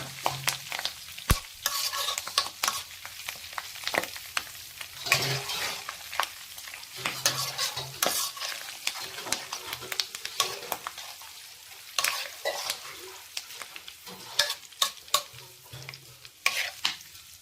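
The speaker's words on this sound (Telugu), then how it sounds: "తాలింపు చూసారా వేగింది" Tempering for tomato chutney fries in a pan with lentils added, a soft continuous sizzle broken by frequent scraping stirs and clinks of a spoon, close and moderately quiet, no voices.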